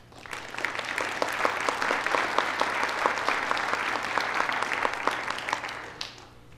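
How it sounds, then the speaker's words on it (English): A leadership summit audience claps for speakers and gift sponsors, a full round of applause that swells quickly, holds steady for several seconds, then tapers off. "Please join me in giving all of these wonderful people a round of applause."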